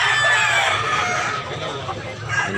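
Rooster crowing at a busy Tabunok, Cebu poultry market, bright and close, with other fowl clucking and general crowd noise underneath.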